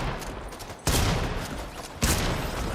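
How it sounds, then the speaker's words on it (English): Shotgun blasts in a video game, two sharp loud shots about a second apart, each followed by sustained noisy game sound, with no talking over them. "Fire the gun! Oh, stupid reload."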